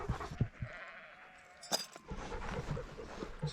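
Ewes and lambs bleat while being mustered down through gorse and a creek on a hill farm, scattered calls near and far mixed with a faint clink and rustling.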